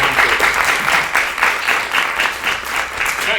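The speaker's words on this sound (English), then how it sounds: "Applause for my brave vampire hunter." Audience applause for a volunteer vampire hunter at a medieval festival show in Râșnov, steady clapping from a crowd that holds throughout without pause.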